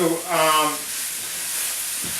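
Mushrooms sizzling in a pan while cooking for a vegan mushroom chowder, a steady close hiss of frying that runs under a brief stretch of talking at the start.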